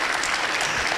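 Dense, even clapping from a luncheon audience at a Rotary gathering, loud and close, filling the whole brief moment without a break.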